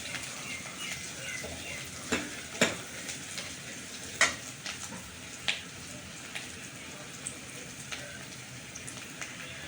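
Onions sautéing in wood-pressed groundnut oil in a kadai for a South Indian kara kuzhambu, a steady close sizzle and crackle with a few sharp stirring clinks and scrapes scattered throughout.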